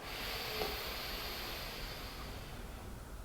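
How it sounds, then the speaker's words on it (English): A slow, deep inhale through the nose rises as a soft, airy hiss, close and quiet, fading gently toward the end, with no talking. "Breathing in through the nose,"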